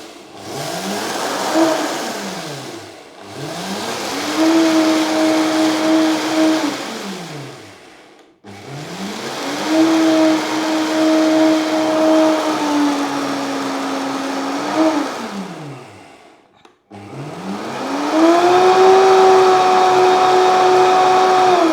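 A grinder whirs loudly as couscous grain is ground down, in four bursts, each spinning up in pitch, holding, and winding back down, with brief pauses between.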